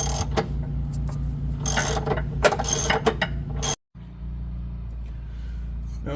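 A ratchet turns a sway bar end link bolt on a Toyota RAV4, clicking rapidly and closely in uneven bursts, then a brief silence before a steadier mechanical whir continues.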